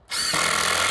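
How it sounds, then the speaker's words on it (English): An impact driver sinks a 3-inch screw into a fence panel, starting abruptly and holding a loud, steady, close whirring buzz with a harsh grinding edge for the whole moment. "Impact drill, man, this stuff is so much easier and it goes so much faster."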